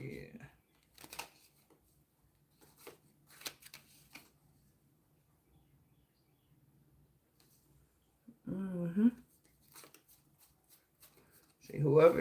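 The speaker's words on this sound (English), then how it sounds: "So I'm just trying to shuffle these cards" Tarot cards are being shuffled by hand, a soft papery riffling that comes in a few brief bursts, quiet and close, with pauses between and a louder flurry near the end.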